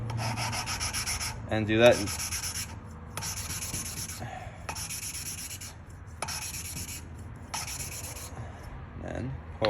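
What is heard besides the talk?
grinding valve into seat while rebuilding an engine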